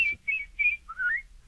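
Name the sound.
whistled imitation of birdsong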